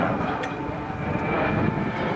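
A Fouga jet aircraft passes at the Melun-Villaroche air show, its steady engine roar close and loud over a broad rushing background.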